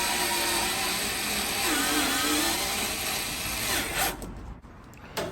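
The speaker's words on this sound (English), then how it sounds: "So mount these 4 screws, really simple." A power tool drives screws into the bracket of a Kenmore Elite dryer, with a loud continuous whirring that rises and falls in pitch, then stops abruptly, followed by a few small clicks.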